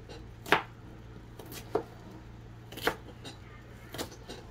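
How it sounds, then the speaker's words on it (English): Four separate knife strokes slicing food on a cutting board, each a crisp close thunk spaced about a second apart over a quiet room hum. "I'm just gonna slice some big slices that way,"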